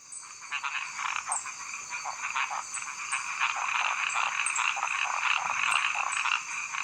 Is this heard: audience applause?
no